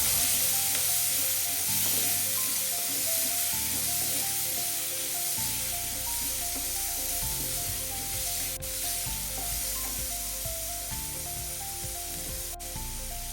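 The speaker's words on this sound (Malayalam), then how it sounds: "സവാള ഇഞ്ചി പച്ചമുളക് വെളുത്തുള്ളി ഒന്ന് വഴറ്റി കൊടുക്കാം" Onion, ginger, green chilli and garlic sauté in a pan for a prawn roast, giving a continuous bright sizzle and hiss, with occasional stirring, under steady background music.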